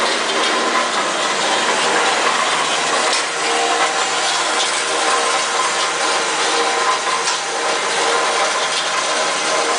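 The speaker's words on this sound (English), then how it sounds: "As you can see, the motor does shudder a little bit." A Dake JH10W3 band saw motor runs steadily with a slight shudder, a continuous broadband mechanical whir that stays loud and even throughout with no talking.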